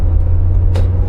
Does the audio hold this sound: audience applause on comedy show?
no